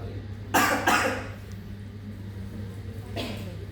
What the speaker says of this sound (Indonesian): Batuk 2 kali.